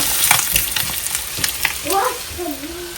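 Eggs fry in a pan, crackling and spitting steadily up close while a utensil scrapes and stirs, with a faint tonal sound near the end.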